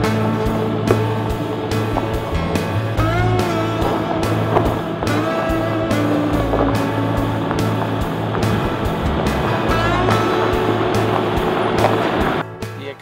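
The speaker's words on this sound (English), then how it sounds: "The X-Trail handled our fire trail easily enough." A 2014 Nissan X-Trail crawls along a bush fire trail in four-wheel drive lock, its engine a steady, loud drone with continuous rumbling and rattling from the rough track, no talk.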